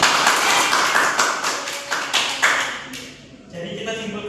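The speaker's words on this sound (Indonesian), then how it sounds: "Berikan tepuk tangan lagi." Classroom applause from a group of students during a physics microteaching lesson: a dense patter of hand claps for several seconds that thins out and fades toward the end.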